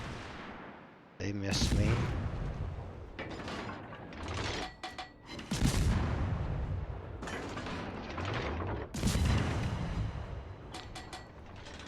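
Enemy secondary guns fire on a destroyer in a naval combat video game, loud booms and shell impacts landing in irregular bursts among mechanical clanking, while a player talks over the action.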